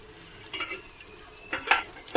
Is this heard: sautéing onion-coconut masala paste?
yes